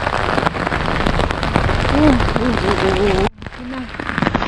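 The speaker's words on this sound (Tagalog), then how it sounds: "Lakasan ng ulan." Heavy rain pours down in a dense, loud, steady hiss in the mountains of Tinoc, Ifugao, with a voice briefly heard under it before the sound abruptly drops and continues more faintly.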